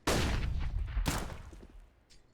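A stack of grenades detonates in Counter-Strike on the Vertigo map during a pro match, two sharp booming blasts about a second apart with rumbling tails fading away.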